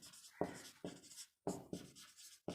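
A pen or marker writes out a Class 10 math solution by hand in close, faint scratchy strokes, several short bursts separated by brief pauses.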